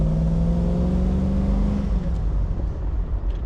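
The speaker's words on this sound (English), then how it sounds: "Oh, but listen to that V8." A 1976 Triumph Stag's V8 engine pulls hard from inside the car, a loud steady drone with a rising tone that settles into a rougher rumble as it keeps driving.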